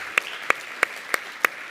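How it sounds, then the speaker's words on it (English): Applause for award winners at an advertising awards show, here mostly a steady hiss of a crowd with a few sharp, evenly spaced claps ringing out clearly every third of a second. "One more round of applause for everybody who has won, please."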